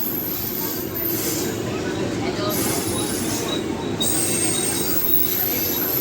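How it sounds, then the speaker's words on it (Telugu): A passenger train on the Ahmedabad–Mumbai Central route runs steadily after leaving Borivali, with a continuous loud rumble close by and a thin high wheel squeal that comes and goes over the roar. "సో ఇప్పుడైతే బోరివలి నుంచి డిపార్ట్ అయితే అయిపోయింది ట్రైన్ అయితే"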